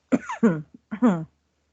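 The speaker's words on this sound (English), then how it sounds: "I'm coughing already. This isn't my cough." A person coughs several times nearby, two harsh pairs of coughs with a short pause between, no speech.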